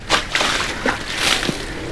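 Buckets of water thrown over a car during washing, several sloshing splashes in quick succession, close and fairly loud, with no talk.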